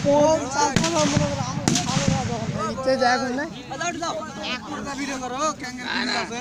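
Gunfire at an Ansar VDP firing training range comes as a few sharp, loud reports early on, with crowd talk and babble running under and after the shots.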